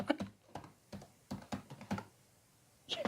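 Keys tapped on a computer keyboard in a typing tutor program: a handful of separate clicks, then a quick double tap and a short run of strokes, close and crisp, with a louder clatter at the end and no speech.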